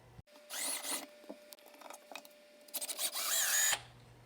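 A drill with a 1/2 inch bit bores into a stock piece of wood while making a floating shelf. Two main whining bursts spin up and cut out, with short taps and handling knocks between them, close by and fairly loud.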